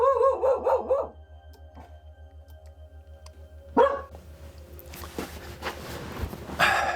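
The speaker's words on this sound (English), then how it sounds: "My dog's about to bark." A dog barks in a quick burst of several loud yelps near the start, then more scattered barks and rustling noise follow later, with a steady low hum underneath.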